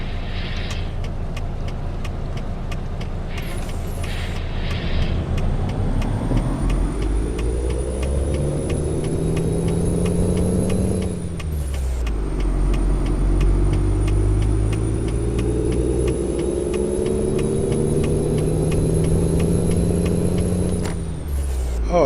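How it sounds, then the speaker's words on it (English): A Greyhound bus rumbles along on the road from Flagstaff toward Las Vegas, its diesel engine rising in pitch as it accelerates through gears, with sharp hisses of air brakes and a steady high whine, loud and close throughout. "Hello, Greyhound bus."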